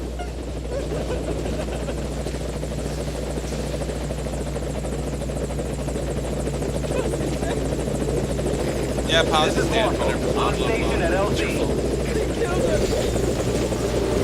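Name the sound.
helicopter landing in video game Metal Gear Solid V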